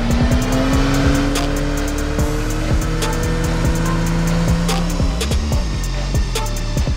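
A tuned car running on 102-octane fuel roars loudly on a dyno test bench, its engine revving and shifting through rising pitches with sharp cracks and pops, continuous and close.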